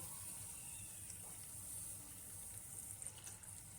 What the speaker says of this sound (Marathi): आता याच्यामध्ये मी पाणी घालून घेते